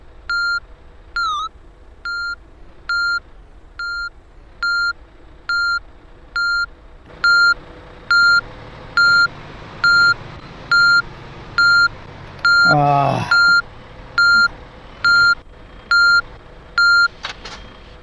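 A reversing truck in the video game Heavy Cargo sounds a steady series of evenly spaced electronic beeps, continuing throughout over a low engine hum, with brief louder traffic noise midway.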